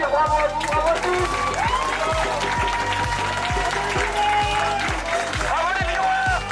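An audience applauds at a live charity stream event, a sustained wash of clapping mixed with a steady pulsing music beat and voices talking over it.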